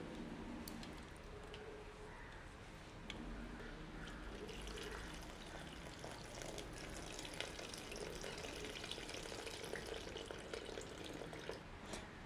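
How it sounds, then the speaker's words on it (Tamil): Dissolved tamarind water is poured into a cooking pot, making a continuous wet pouring and splashing rush that stays even for the whole stretch. "கப்பிப்பாலில் வந்து நான் புளி ஊற வச்சு நான் புளியை வந்து கரைச்சி ஊற்றிக்கொள்வோம்"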